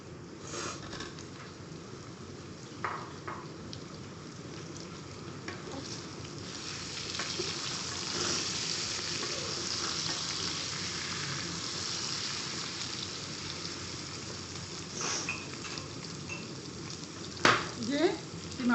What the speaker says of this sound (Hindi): ये आलू इसमें जा रहे हैं अब।